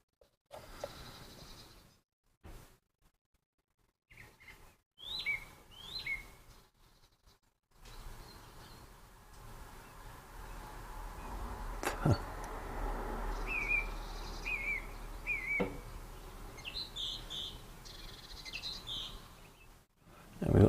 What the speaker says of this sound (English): And we've got some blue tits are checking out the bird box I put out for Mrs. Cruncher.